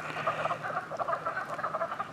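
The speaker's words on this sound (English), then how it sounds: "They weren't turkeys, they were frogs." Frogs croaking during mating at a pond make a dense, continuous chorus of rapid, rasping calls that pulse in quick succession, loud and close, with no voices.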